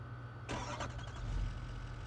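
In Farming Simulator 25, a truck engine cranks and catches with a sudden burst of noise, then settles into a low steady idle hum.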